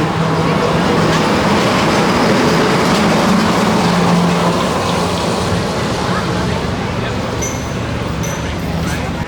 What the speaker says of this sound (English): there goes the monorail